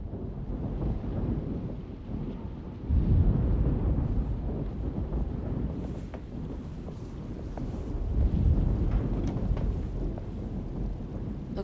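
A thunderstorm in the video game Alone in the Dark rolls in as a continuous deep rumble with wind, swelling louder twice, with no voices.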